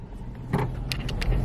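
A car drives along with a steady low engine and road rumble heard from inside the cabin. A few brief clicks and rattles sit over it, and nobody speaks.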